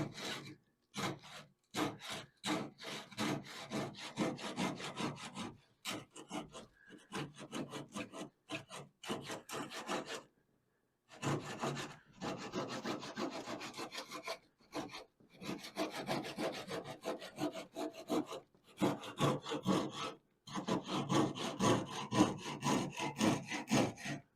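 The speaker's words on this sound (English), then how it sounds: "And then we trim the top off. Just use a cross-cut saw." A cross-cut saw trims wood on a boat's bow stem and gunwale in a wooden boat repair, giving steady rhythmic rasping strokes in bursts with brief pauses, close and alone.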